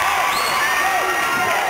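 A large crowd in a gym at a high school basketball game roars and cheers continuously at tip-off, with whoops and applause blending into a loud, echoing wash of noise.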